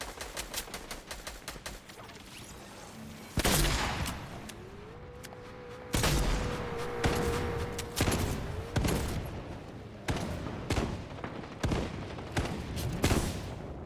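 Gunfire from the video game Fortnite: scattered single shots, then several loud rapid bursts of automatic fire with sharp cracks, separated by brief lulls.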